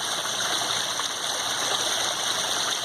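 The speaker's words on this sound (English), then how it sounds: "the water running across the dirt, when it runs straight into the stream" Rainwater runs across bare dirt and spills straight into a backyard pond stream, a steady close rushing trickle throughout with no voices.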